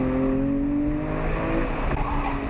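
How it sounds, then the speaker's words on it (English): A Porsche 911 powers hard out of the last corner of an autocross course, its engine note holding a loud, steady roar with strong harmonics that shift in pitch as it accelerates, close and continuous with a faint tire scrub underneath. "I take this final corner out, hard on the gas, and I finish the lap"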